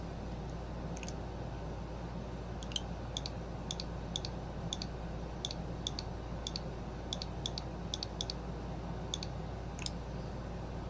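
Quick clicks and taps from entering a password off screen while setting up a Nintendo Switch, arriving in short irregular bursts over a steady low hum, faint and close.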